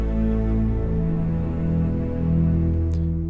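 Bass section of the Audanika music app: a dense, steady low bass drone with sustained harmonics for a few seconds, loud and continuous, with no talk.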